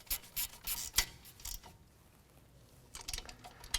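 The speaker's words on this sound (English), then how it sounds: "with a quarter drive ratchet and a 10 millimeter socket," Quarter-drive ratchet turning a 10 mm socket to tighten a bolt on a 2005–2016 Toyota RAV4 during front driver-side CV axle work, heard as close, quick bursts of clicking and rasping with a pause before a final run.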